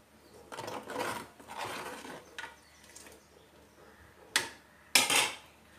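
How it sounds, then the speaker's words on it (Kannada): Masala is mixed in a cooking pot for egg Maggi, with several scraping strokes of a spoon and two sharper metallic knocks near the end, no voices. "ಮಿಕ್ಸ್ ಮಾಡ್ಕೋದು"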